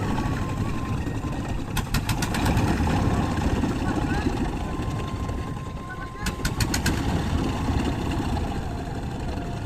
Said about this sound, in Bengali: নৌকাটা কিন্তু স্টার্ট করে দিছে